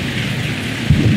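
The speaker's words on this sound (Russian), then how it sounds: "Я пойду наверх на звук дождя." Heavy rain pours steadily from the PS1 game Resident Evil 3: Nemesis on a stormy night, a dense constant hiss with a low rumble swelling near the end.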